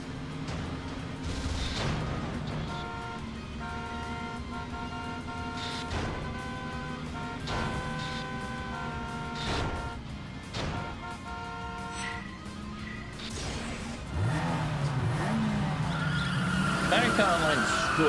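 Cars repeatedly skidding and crashing into other vehicles during a driving sequence in the video game Yakuza 5 Remastered, with engine drone, tire squeals and impact thuds running continuously over game music and effects.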